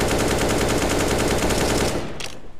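Sustained automatic gunfire from a video game shooter during a recoil-control spray, a loud rapid burst of evenly spaced shots lasting about two seconds before cutting off.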